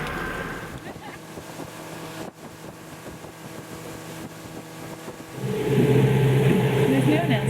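A motorboat runs at sea on a whale-watching outing off Mexico, its engine a steady mid-level drone with wind buffeting the microphone, growing noticeably louder and rougher toward the end as the hull noise rises.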